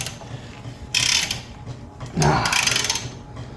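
A wrench turns a worn carriage bolt on a Ford 8N tractor during transmission removal, giving two close, loud bursts of ratcheting and metal scraping with quieter shop noise between them.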